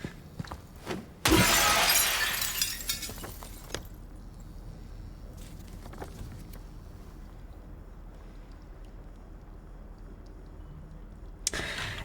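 Glass shattering in the video game Apartment Hills 2: a sharp, loud crash with a spray of bright shards, fading into a low background hum, followed later by another brief sharp hit.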